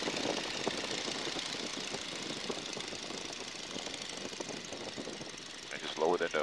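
Radial engine of a PT-17 Stearman biplane drones loudly and steadily in the open cockpit, a dense, continuous rumble filling the whole clip with a brief flutter near the end as power is brought back on.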